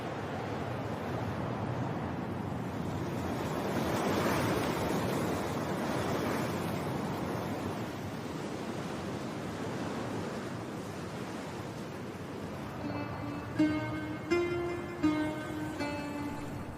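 Atlantic waves break along the Lanzarote coast in a steady, rushing roar of surf and wind that swells and fades, with bright tonal notes entering near the end.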